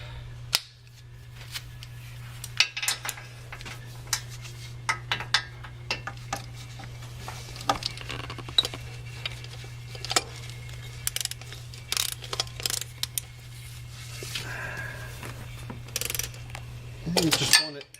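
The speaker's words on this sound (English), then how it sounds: "Set the ratchet." A ratchet tightens an oil filter during an oil change on a full-size supercharged Range Rover, giving irregular bursts of clicking over a low steady hum, close and moderately loud.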